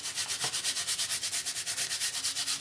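A surgical scrub brush with its foam pad removed scrubs built-up grime off a 12-string guitar in steady rapid back-and-forth strokes, a close, even bristly rasping with no talking.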